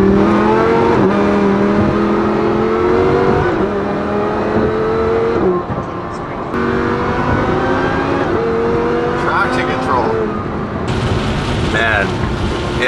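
A Lamborghini drives off in rainy weather, its engine revving loud and close through rising and falling gear sweeps over a constant roar of road and rain noise.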